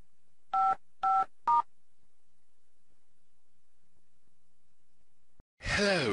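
Three short two-tone iPhone keypad beeps sound at an even pace in quiet, then a voice begins speaking at the end.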